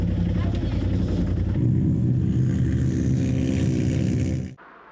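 Trophy truck engine at an off-road race, a loud, close droning roar with a steady harmonic growl that rises in intensity partway through, then cuts off abruptly near the end.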